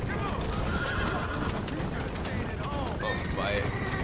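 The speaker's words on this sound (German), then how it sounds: "Bemerke gar nicht, dass mein Pferd sich da abquält und bockt." A horse in a race in Red Dead Redemption whinnies and neighs repeatedly while its hooves clip-clop at a gallop, with a voice talking over the close, busy in-game mix.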